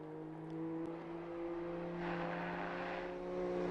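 A BMW race car laps Donington circuit in a one-make TRC challenge race. Its engine is a faint, steady droning hum that swells briefly as it passes, heard from a distance without commentary.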